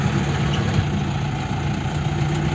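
The engine of an 855 tractor puddling a field hums and rumbles steadily at close range, a constant low drone with no breaks or voices.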